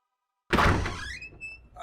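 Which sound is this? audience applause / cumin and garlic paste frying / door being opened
door being opened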